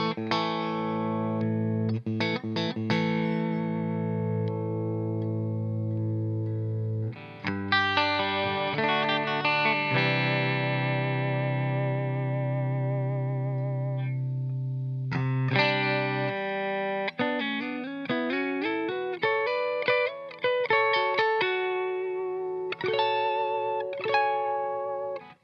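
Gretsch Custom Shop Pink Penguin G6134T electric guitar played on its neck and middle pickups, with chords and single-note runs ringing out clearly in several phrases, with distortion and chorus-like effects and some reverb, and no talking.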